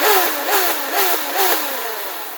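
A Nerf Zombie Strike RevReaper flywheel blaster revs up and down in several quick bursts, a high-pitched motorized whir, loud and close.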